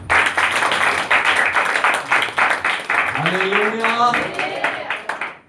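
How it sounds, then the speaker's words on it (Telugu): Congregation at a Christmas church service claps hands in a quick, steady rhythm, with voices calling out loudly over the clapping partway through. "చప్పట్లు తట్టండి."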